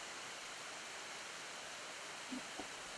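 Steady, soft roar of the Mençuna waterfall near Arhavi in Artvin, in Turkey's eastern Black Sea region: an even wash of falling water throughout, faint and distant, with a couple of small knocks near the end.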